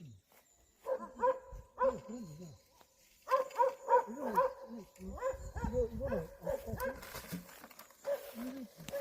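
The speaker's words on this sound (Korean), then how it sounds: "개 짖는 소리" A dog barks in short bursts of several yaps each, fairly close, separated by brief gaps, with the barking continuing through the latter half.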